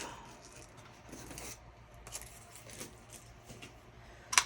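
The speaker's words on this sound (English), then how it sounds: "So I'm just going to cut this off." Scissors trim the seam allowance off a muslin neckline, making soft, faint snips and fabric rustles in an irregular sequence up close, with a sharper clack at the very end.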